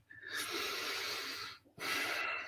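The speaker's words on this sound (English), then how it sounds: "let's continue to breathe" Breathing during a guided meditation practice: two long, loud breaths close to the microphone, the first lasting over a second, then a brief pause before the second, with no talking.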